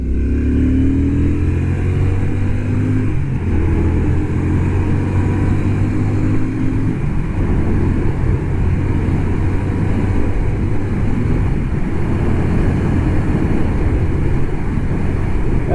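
A 2024 Royal Enfield Shotgun 650 accelerates hard, its loud, steady engine roar climbing in pitch through a gear change early on, then holding a dense, rough drone close to the microphone.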